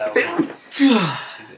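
One sharp sneeze bursts out during a tabletop wargame session, followed by a person speaking close by.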